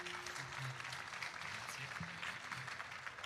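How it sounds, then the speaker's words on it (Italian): An audience claps at a live outdoor folk concert in Quartu Sant'Elena, steady moderate applause with some murmuring voices underneath. "Intanto un applauso"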